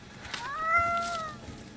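A hungry kitty in the Siam jungle of the video game Indiana Jones and the Great Circle gives a single rising and falling meow, fairly close and clear over a faint ambient background.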